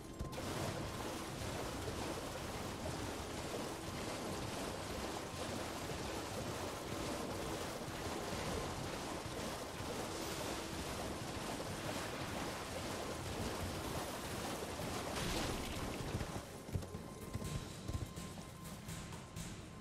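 A character in the Elden Ring video game runs through water, producing a steady rushing splash and wash that stays dense and even throughout, with a slight shift near the end and no talking.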